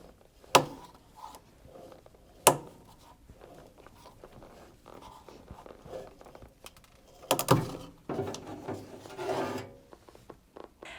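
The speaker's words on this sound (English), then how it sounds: "you just want to work the belt between the motor and the pulley" Rubber drive belt worked off the pulley of a Hoover washing machine, close up: rasping rubs and squeaks with sharp knocks near the start, then a burst of scraping and thumps toward the end, no talk.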